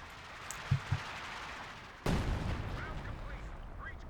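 Two soft distant thumps followed by a sudden, louder blast that rumbles and decays, from mortar and artillery fire in the Company of Heroes 2 Ardennes Assault war game.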